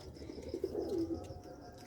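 Faint, low cooing from breeding pigeons in a loft swells briefly in the middle, a soft burbling phrase over a quiet background, with no voices.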